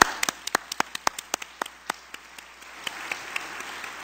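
Scattered clapping from a conference audience at a cystic fibrosis meeting plenary, a dozen or so distinct claps at first, then thinning out into quieter, sparse hand claps.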